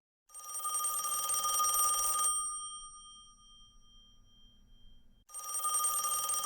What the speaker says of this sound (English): Is the phone actually ringing this week?